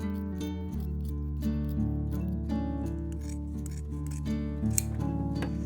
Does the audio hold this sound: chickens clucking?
no